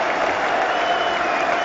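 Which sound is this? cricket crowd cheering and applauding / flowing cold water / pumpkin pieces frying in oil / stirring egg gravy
cricket crowd cheering and applauding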